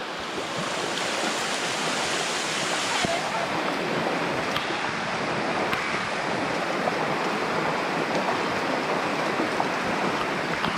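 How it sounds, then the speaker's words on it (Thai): Heavy rain pours down steadily in a deep forest in Laos, a dense, loud, unbroken hiss with no pauses. "ฝนมาอีกแล้วพี่น้องเอ้ย"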